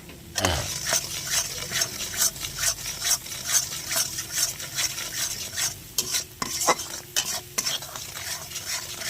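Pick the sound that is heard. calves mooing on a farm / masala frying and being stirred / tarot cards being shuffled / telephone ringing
masala frying and being stirred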